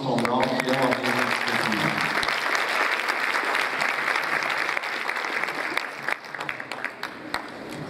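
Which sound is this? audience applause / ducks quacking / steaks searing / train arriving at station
audience applause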